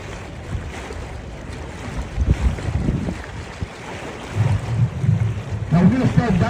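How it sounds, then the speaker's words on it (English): A San Antonio River Walk tour boat moves along the river with a low, steady motor rumble and water wash, buffeted by wind noise, rising louder toward the end. "Now we're going to start docking the boat here in a minute"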